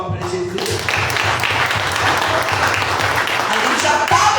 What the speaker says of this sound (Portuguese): Uma salva de palmas para Jesus.